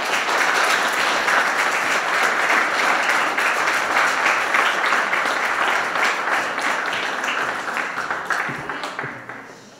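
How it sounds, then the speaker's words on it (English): Dense, sustained applause from a large crowd at a church parish celebration, loud and steady throughout, tapering off in the final seconds. "Can I have another round of applause for him, please?"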